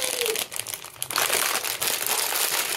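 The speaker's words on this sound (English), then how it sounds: "I've got all these bags to open." Crinkly plastic blind bags for Tokidoki Unicorno collectible figures are torn and rustled open close up, loud continuous crackling and crumpling with brief pauses, no talking over it.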